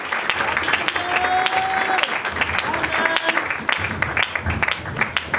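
A church congregation claps and cheers loudly for the Lord during a worship service, with steady applause filling the room, scattered voices and whistles mixed in throughout.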